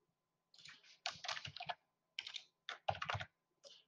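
Someone types a name on a computer keyboard to check in to an online teleservices waiting room: close, crisp key clicks in quick clustered bursts separated by short pauses, with no speech.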